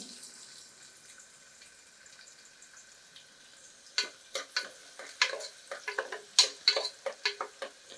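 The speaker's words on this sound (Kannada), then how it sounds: "ಎಣ್ಣೆ ಬಿಸಿಯಾಗಿದೆ, ಅದಕ್ಕೆ ನಾನೀಗ ಈರುಳ್ಳಿ ಹಾಕ್ತಾ ಇದ್ದೀನಿ." Onions dropped into hot oil for Mangalore-style kalathappa, a soft background hiss giving way after a few seconds to a series of close, crackling sizzle bursts as the pan is stirred, with no talk.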